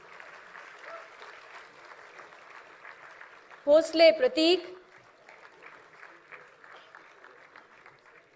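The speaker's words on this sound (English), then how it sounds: "Let the applause keep coming, please." Audience applause fills a business school convocation hall as graduates' names are read, a steady, moderately distant clapping that continues under a brief spoken announcement of a name.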